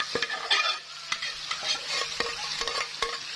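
Frozen minced meat hits hot oil in a pan with golden fried onions and sizzles steadily, while a spoon stirs and scrapes in repeated close clinks and no one speaks.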